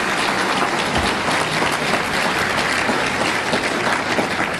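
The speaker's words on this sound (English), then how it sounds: "Big round of applause for Ben Shapiro." Big Orange County audience applauding as Ben Shapiro is called back on stage, a loud, sustained wash of clapping from many hands that never lets up.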